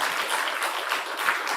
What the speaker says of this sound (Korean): 우리 박수로 감사합시다.